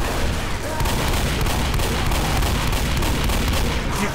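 Left 4 Dead gunfire, a dense, continuous barrage of shots that fills the whole stretch loudly without a break.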